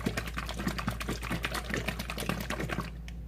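A squeeze bottle of cake batter is shaken fast and close, a steady run of dense rattling sloshes that stops abruptly near the end, with a constant low hum underneath.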